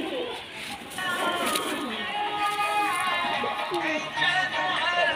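Local Bangladeshi homing pigeons, giribaz flying birds, coo and murmur in a loft, the soft warbling calls continuing close by under someone talking.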